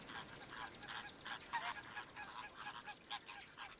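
A flock of flamingos in Kenya calling, a faint, distant chorus of overlapping honking, goose-like calls in a continuous jumble over low background noise.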